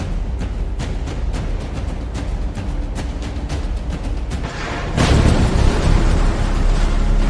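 A naval battle rumbles with a stream of sharp cannon reports and grenade blasts, then a heavier roaring explosion takes over for the last couple of seconds, loud and dense.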